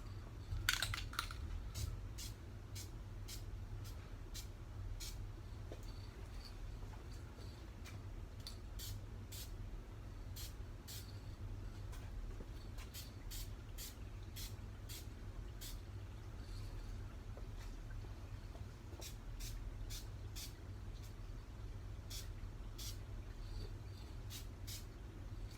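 Aerosol spray paint applied to Honda car parts, a steady hiss running throughout with repeated short clicking bursts scattered across it, fairly quiet and even, with no talking.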